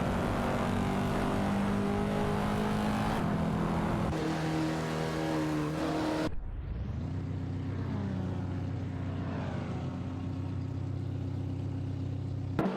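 Video game racing cars, a mixed field with BMW i8s and a Dodge Charger, roar continuously at high revs. An engine drone holds, then drops abruptly and climbs back up as the cars accelerate through the race.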